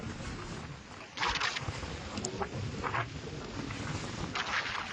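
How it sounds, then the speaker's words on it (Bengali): A small fishing boat rocks on rough, stormy sea as water washes aboard: a steady roar of wind and waves, with louder splashing surges rising and falling throughout. "নৌকা তো মারাত্মক দুলছে, জল উঠে যাচ্ছে"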